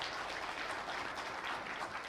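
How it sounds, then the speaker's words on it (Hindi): A seminar audience in a hotel hall claps together in a brief, steady burst of applause heard from a distance, fairly faint and without talk. "ये सबके लिए ताली बजवा रहे हैं।"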